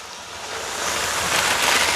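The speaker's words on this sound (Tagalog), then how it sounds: "Umuulan na mga kaumami." Rain falls steadily outdoors as a dense, loud hiss that swells slightly, with no voices.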